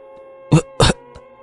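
Two short, sharp coughs close by, a brief pause between them, with a faint quieter rasp afterward.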